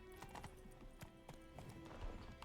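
Horse hooves clip-clop steadily on a road in The Witcher 3 video game, a brisk, even rhythm of clear hoofbeats over faint ambient game sound and music.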